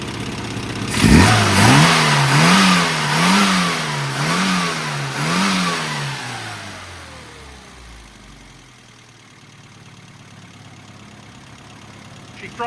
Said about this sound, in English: She throttles up well,